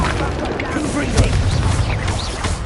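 A Confringo fire-blast spell exploding in the wizarding game Hogwarts Legacy on PS5: a loud, dense rumbling burst with crackling debris across a short, continuous stretch of combat noise.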